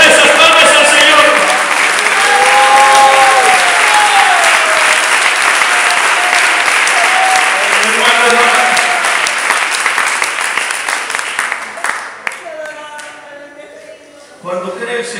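A church congregation claps hands in praise of the Lord, loud sustained applause with voices singing and calling over it, thinning out near the end as a lone voice speaks.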